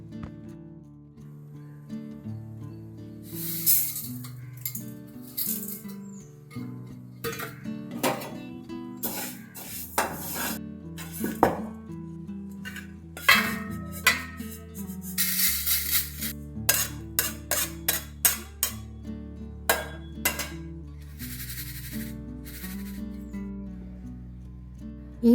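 Black sesame and flax seeds dry-roasting in a pan for laddus, with a steady run of scraping, rattling stirs and utensil clinks against the metal, close and fairly loud, with no talking.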